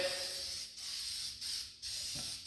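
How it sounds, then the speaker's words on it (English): Rust reformer hisses from an aerosol can onto the metal of a 1948 Chevy truck in three steady bursts, each broken by a short pause. "I'll spray it with this rust reformer, and it'll turn the rust black and it'll kill it."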